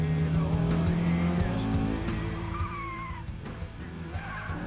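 A historic touring car goes hard through a fast curve, its engine droning steadily and tires squealing as the rear slides, close and loud at first, then easing off.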